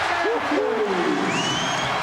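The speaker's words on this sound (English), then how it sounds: "Oh, the crowd's back." Crowd in a college basketball arena for UConn men's basketball at Virginia Tech, a loud, sustained roar of cheering and applause with whistling squeals rising above it.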